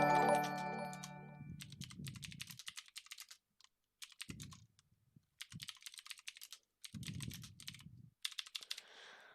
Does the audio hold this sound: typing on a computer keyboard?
yes